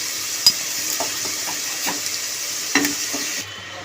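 Potatoes fry in hot oil at close range with a constant sizzle, while a spatula knocks and scrapes against the pan several times, the last few strokes louder before the hiss briefly fades.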